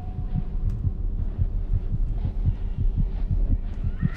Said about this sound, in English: Why is my heart beating so much?